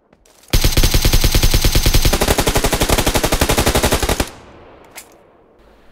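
Rapid automatic gunfire in PUBG PC Lite, one loud close burst of about four seconds with evenly spaced shots, then a brief quiet tail.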